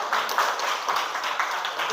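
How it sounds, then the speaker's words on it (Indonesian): A classroom of students gives a short burst of applause, a dense patter of many hands clapping together at close range. "Berarti kasih tepuk tangan dulu."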